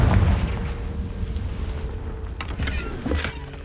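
A Confringo blasting spell detonating in the video game Hogwarts Legacy: a deep, loud boom opens, then a rumbling roll that fades, with a couple of sharp cracks of debris near the end.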